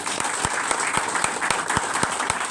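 Audience applause, a dense, steady wash of many hands clapping at close range with no voices over it, holding at an even level throughout.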